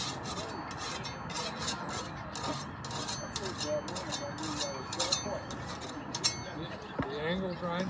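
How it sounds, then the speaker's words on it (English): A flat file rasping across the back of a garden hoe bevel to take off burrs, with steady scraping strokes repeating close up, a voice talking over them. "the file is basically flat against the hoe. And we're just taking burrs off the back side of the bevel"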